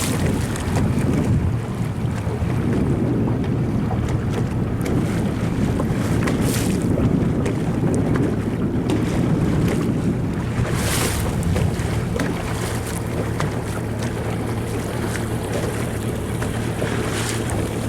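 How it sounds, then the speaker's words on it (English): Sailboats racing upwind toward a finish line, steady strong wind rushing over the microphone with water and waves washing beneath, continuous and loud with no talk. "So they're racing upwind to the finish line now."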